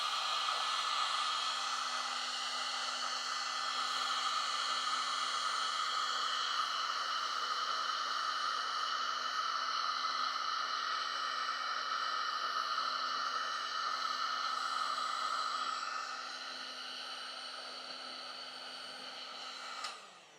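Shrink tubing over wires on a motorcycle electrical system being heated with a heat gun, a steady whirring blower hiss with a constant hum, running evenly for about fifteen seconds before dropping in level and cutting off.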